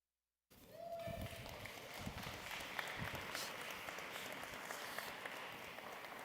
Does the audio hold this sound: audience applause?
yes